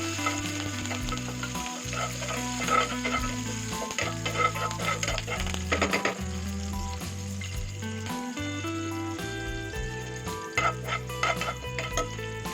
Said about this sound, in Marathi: तेल गरम झाल्यावर यात कढीपत्ता, हिरवी मिरची 1 मिनिट तेलावरती परतवून घ्यायचे आहे